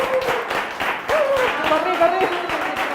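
Scattered applause and a few hand claps at the close of a conference talk on branding for developers, fairly close, mixed with a voice talking over it.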